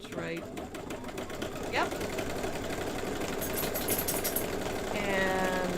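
An embroidery sewing machine stitching an in-the-hoop quilt block, a steady fast mechanical whirring hum running continuously close by, with brief talk over it.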